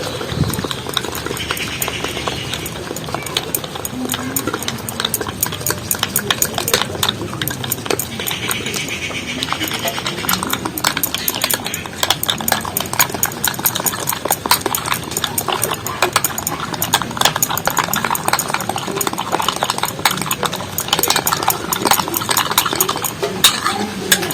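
A thick face pack paste is stirred in a bowl, making rapid, continuous scraping and clicking strokes of a utensil against the bowl, close and loud throughout.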